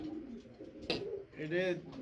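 Butterfly pigeons coo with low, rolling calls close by, while a person talks over them.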